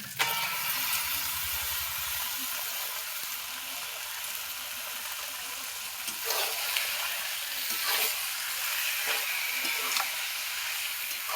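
Mutton washed in hot water and coated with salt and turmeric sizzles steadily in a hot pan for a Bengali mutton curry, a continuous close hiss with a few brief stirring scrapes and no talking.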